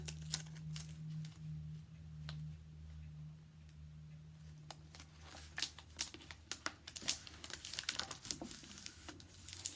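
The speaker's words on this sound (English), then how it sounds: "I'm going to add some tape to the seam." Adhesive tape pressed and smoothed along the seam of a handmade journal, giving soft crinkling and crackling with scattered sharp ticks that grow busier and louder toward the end, close up and without talk.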